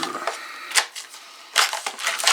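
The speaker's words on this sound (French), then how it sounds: "Donc, on va procéder au déballage. Une pince à clôture." Bates fence pliers being unpacked from their wrapping, with crinkling packaging and scattered sharp rustles and taps in uneven bursts, close and fairly loud.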